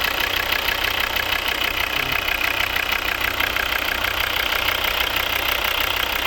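A 2013 Volvo V60 D3 2.0 five-cylinder turbodiesel idles steadily up close, a loud, even rumble with a faint clattering diesel knock and no speech.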